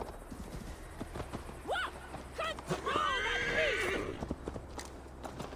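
A horse being ridden in Assassin's Creed Valhalla: steady clip-clop of hooves, then a loud, close whinny and snorting from the mount over a low outdoor ambience.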